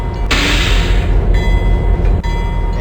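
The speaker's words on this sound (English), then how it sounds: "Okay, so we'll bring the train to a stop here." Locomotive braking to a stop on a Pennsylvania Railroad line in a winter 1965 train simulator setting, a loud continuous rumble with a burst of hissing air brake release and faint ringing tones over the rolling noise.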